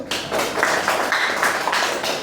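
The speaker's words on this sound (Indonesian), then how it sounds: "Ya benar, tepuk tangan dulu" A fifth-grade elementary class claps in time during a science lesson, the hand claps landing in a quick, even rhythm of repeated bursts, close and fairly loud, with no talking.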